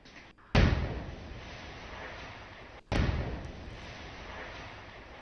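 Explosion blowing up a house in Pahalgam heard in news footage: two sudden loud booms a couple of seconds apart, each followed by a rumbling roar that slowly fades.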